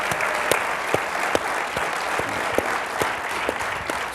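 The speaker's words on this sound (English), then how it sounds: "Let's have a round of applause." An audience at an IndyTalks event gives a round of applause, a close, steady roar of many hands with sharper individual claps popping out at a fairly regular rhythm throughout.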